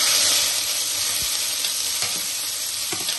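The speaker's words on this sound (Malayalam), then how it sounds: "ഉള്ളിയും പച്ചമുളകുമാണ് ഇപ്പൊ ഞാൻ ഇട്ട് കൊടുക്കുന്നത്" Onions and green chillies hiss in hot oil for a mutton liver pepper fry, a dense, steady sizzle with a few soft stirring taps and no talk.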